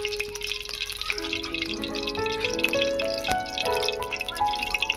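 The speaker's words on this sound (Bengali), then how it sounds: "তার জন্য দিয়ে দিচ্ছি সরিষার তেল" Mustard oil pours into a pan for frying piring greens, making a close, trickling liquid sound with drips and small splashes that keeps on for several seconds.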